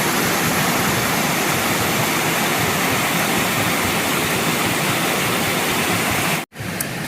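Steady, loud rush of the Goyt River's cool running water, a continuous broadband roar close by that cuts out abruptly near the end.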